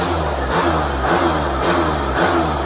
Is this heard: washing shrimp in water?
no